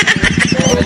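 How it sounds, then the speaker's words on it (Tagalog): A motorcycle engine with its silencer removed runs loud and close in a rapid, raw putter for a brief moment. "Oo, ang ingay ng motor."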